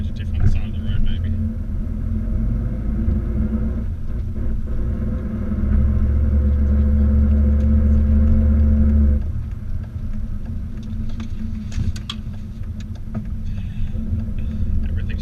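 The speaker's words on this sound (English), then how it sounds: "The car has a silent exhaust, so if you can hear noise now, it's the diff" Inside a moving car with a quiet exhaust, a steady low road rumble carries a droning differential hum. The hum swells for a few seconds midway, then eases, with light knocks and rattles near the end.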